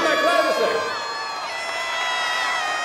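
A concert crowd cheers and whoops for a band, many raised voices in a loud, continuous wash that swells at first and then holds steady close by.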